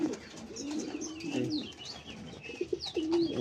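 Pigeons coo in a loft with nesting birds sitting on eggs and chicks, giving soft low throaty calls through most of the stretch along with a few higher chirps, fairly close and steady, with no talking.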